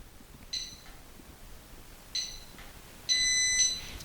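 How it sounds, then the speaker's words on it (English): A Hoveround MPV5 power wheelchair's joystick sounds its unlock beeps: two short electronic beeps, then a longer, louder one, clear against a quiet room. "push the joystick forward till it beeps and then pull it backwards in reverse till it beeps, and you'll hear a louder beep"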